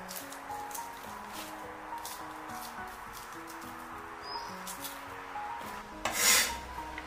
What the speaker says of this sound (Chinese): 将它改刀切条，再切小块